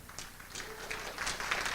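A standing audience applauds at an event honouring an author, a dense, moderately faint patter of clapping that builds slightly toward the end.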